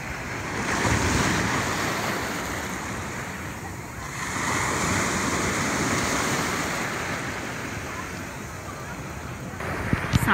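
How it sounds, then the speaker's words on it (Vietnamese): Sea waves wash and lap onto a beach facing Cù Lao Chàm island near Ngũ Hành Sơn, a loud, rolling surf that swells and eases, with gusty wind buffeting the microphone and faint voices nearby. "Sóng vỗ rì rào"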